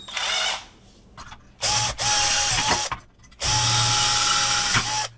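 A power drill bores larger holes in the casing of a 1500W electric cooking hot plate, in three loud whining bursts separated by short pauses, close up.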